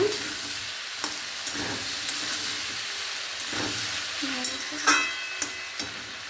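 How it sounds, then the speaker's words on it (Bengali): Prawns cooking with vegetables in a pan, stirred after the lid is lifted: a steady, moderate sizzle and hiss with occasional scraping spatula strokes and clinks, close by with no talking. "তো ঢাকনা খোলা হলো, দিয়ে একটু নাড়াচাড়া করছে।"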